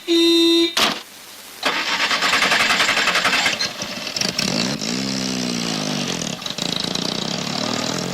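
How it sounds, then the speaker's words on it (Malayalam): A vehicle engine cranks and catches, then revs up and runs steadily, shifting pitch as it pulls away in a comedy film scene; loud and near, with no talk over it. "വാസു, ആ വണ്ടി ഒന്ന് തിരിച്ചിട്ടെ."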